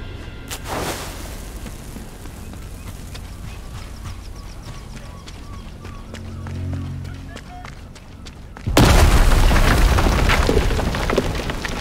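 A bunker blows up in the Sniper Elite 5 video game, a sudden loud broadband blast near the end that holds as a roaring rumble after quieter battlefield ambience with faint footsteps and distant voices.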